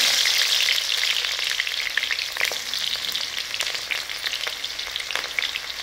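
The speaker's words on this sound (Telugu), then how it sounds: "ఆయిల్ హీట్ అయ్యిందండి. ఇందులో మనం కొన్ని ఆనియన్స్ వేసుకున్నాము." Onions fry in hot oil in a kadai for egg fried rice, giving a bright, loud sizzle that eases slightly over time, with scattered crackles and a few stirring scrapes, no voices.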